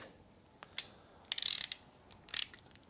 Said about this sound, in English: I'll put my socket on there